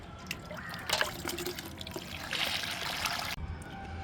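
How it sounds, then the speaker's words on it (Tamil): Water poured from a can onto potting soil mix filling a tub on a terrace garden, a soft steady trickle and splash, fairly faint and close, with no talking. "மண் கலவை இந்த டப்பில் நிரப்பிக்கிட்டோம் இப்போ நம்ம தண்ணி ஊற்றிடலாம்"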